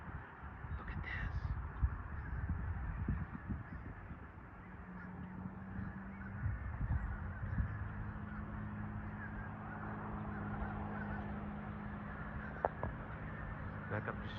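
Crowds of birds caw and honk outdoors in a dense, continuous chorus heard from a moderate distance, with a person talking now and then.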